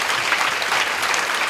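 A church congregation applauding together during a Korean young adults' service, a dense, even wash of clapping with no voices over it.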